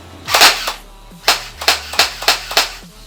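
An M-16-style automatic toy gel blaster fires: one long burst, then a quick run of sharp popping shots in rapid succession, loud and close, with no voices.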